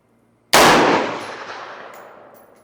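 A single loud rifle shot at a target on a ranch, one sharp close blast after a brief silence, followed by a long, slowly fading echo.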